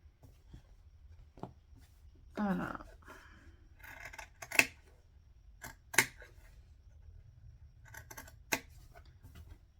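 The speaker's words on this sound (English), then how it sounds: "Grabbing my Classe scissors today" Scissors snip several times in a quiet room, sharp isolated clicks spaced irregularly, with a brief rustle of material between cuts.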